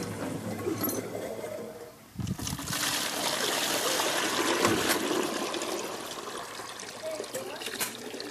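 Tap water runs steadily while dishes are washed up in a home kitchen, a continuous trickling and splashing stream with a brief break near the start, heard up close with no voices.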